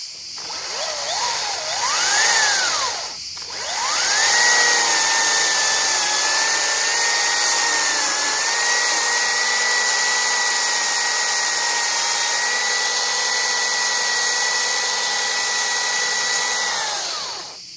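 A power tool whines loudly and steadily as it cuts up wood outdoors, with a short spin-up at the start, a brief stop, then one long sustained run before it winds down.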